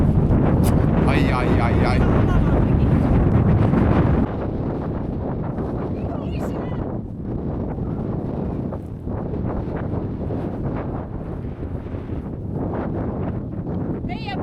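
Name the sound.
wind blowing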